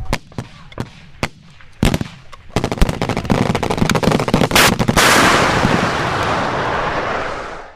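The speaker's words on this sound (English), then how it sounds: "Rapid fire now." In the military game ArmA 3, sharp gunshots crack out singly at first, then build into rapid, dense bursts of automatic fire that blur into a loud, roaring wash of shooting and explosions.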